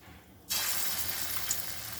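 Small lentil fritters (dal bora) dropped into hot oil, bursting into a sudden loud, steady hiss and sizzle that continues close up to the end, with no talking.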